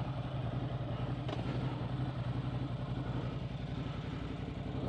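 A rebuilt Ducati Hypermotard motorcycle with ported performance heads idles nearby, a loud steady lumpy thrum with a fast even pulse and light mechanical clatter, no talk.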